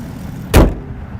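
A 2019 Ram 1500 Bighorn pickup door slams shut once, a single loud, close thud rising out of a quiet outdoor background and dying away quickly.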